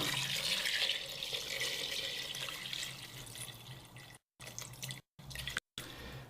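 Cold tap water runs steadily into a pot holding pork pie stock, a close hissing pour that fades lower, then breaks into short gaps as the flow stops and starts.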